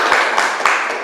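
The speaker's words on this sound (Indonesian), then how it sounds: "Iya, tepuk tangan buat Dinda." Classroom applause for a student named Dinda, a short burst of close, dense hand clapping from a group.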